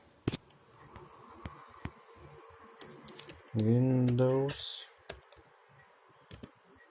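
Computer keyboard being typed on in short, light clicking bursts, with a brief faint voice-like tone midway, fairly close and otherwise quiet.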